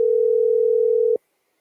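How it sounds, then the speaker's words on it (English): Telephone call left unanswered: a steady, unbroken electronic tone, moderately loud and alone, holds for just over a second and then cuts off abruptly into silence. "No, he's not answering the phone."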